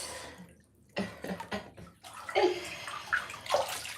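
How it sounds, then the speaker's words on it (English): Bathwater drains from a tub in irregular gurgling and sloshing bursts, close by and moderately loud, with no talking. "Alright, I'm gonna let this water out."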